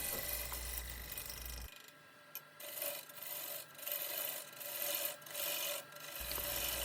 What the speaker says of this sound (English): These pull cuts that I've been doing, they are a bevel rubbing cut